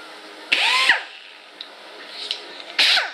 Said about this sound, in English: die grinder with a tungsten cutter